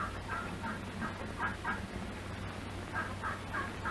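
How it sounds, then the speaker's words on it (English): Turkey gobbles from a farm turkey yard come in short bursts several times over a steady low hum, moderately distant and not very loud. "He hears a turkey gobbler who flew over the fence of the turkey yard."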